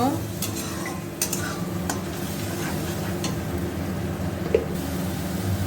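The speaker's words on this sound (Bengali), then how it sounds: "মশলাটা ভালো করে ভাজা ভাজা করে নেব" Spice masala with ground cumin and coriander frying in a pan while being stirred, a constant close sizzle with repeated clinks and scrapes of a metal spoon against the pan, no talking.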